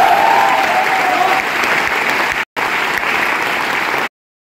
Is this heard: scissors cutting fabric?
no